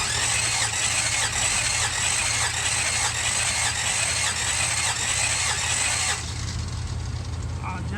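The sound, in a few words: 1966 Buick Riviera engine cranking during compression test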